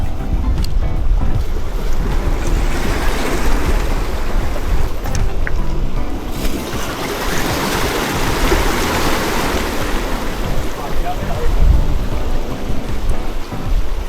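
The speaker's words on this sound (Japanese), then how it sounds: "こんなに波来るとは思わなかった" Rough ocean waves crash and wash against a rocky fishing shore, a loud, churning roar with wind buffeting the microphone and surges rising and falling throughout.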